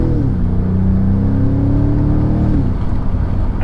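A 2021 BMW M5 Competition LCI with 625 hp pulls hard through second gear in four-wheel-drive mode, its engine note rising smoothly and loudly from inside the cabin for a few seconds.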